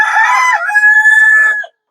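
A desi rooster on a floor-raised chicken farm crows once, loud and close, a single drawn-out call lasting under two seconds before cutting off into silence.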